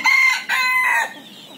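A rooster that is nearly pure native jungle fowl crows once nearby, a loud two-part call that trails off, with no talking.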